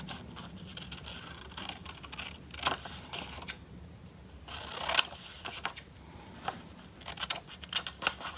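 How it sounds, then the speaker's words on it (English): Scissors snip through paper to cut out a mermaid corner bookmark, with short scratchy cuts and paper rustling repeating close up in irregular bursts. "Let me cut that out first."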